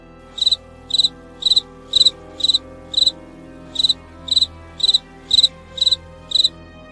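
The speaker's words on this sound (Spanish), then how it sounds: "solo podía escuchar los cantares de los grillos" Crickets chirp at night in short, evenly spaced trilled bursts, about a dozen in a steady rhythm, loud and close over a quiet background.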